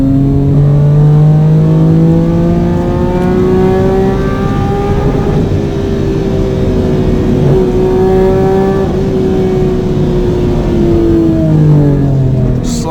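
Mitsubishi FTO Version R on a race track, its engine loud and close as it revs hard through the gears, pitch climbing and dropping with shifts and a lift for braking into a corner, without speech.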